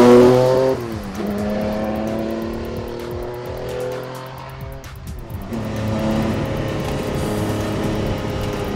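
A Porsche 962 Le Mans race car with a heavy turbo engine revs hard through its gears, dropping briefly during a shift and then pulling strongly again, loud and close with no talk.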